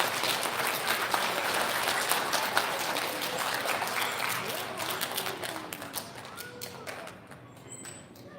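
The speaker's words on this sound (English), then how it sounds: "Big round of applause for our kindergarten." Applause from an audience at an elementary school recognition ceremony for a kindergarten class, steady dense clapping that thins and fades toward the end, with faint voices mixed in.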